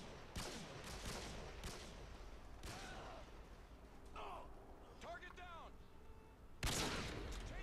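Gunfire from Modern Warfare 2 during a no-scope Search and Destroy online match: several sharp shots and bursts spread through the clip, with a loud blast near the end, all set against constant game ambience.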